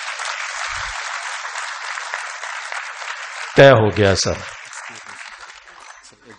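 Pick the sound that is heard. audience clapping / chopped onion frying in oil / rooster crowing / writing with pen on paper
audience clapping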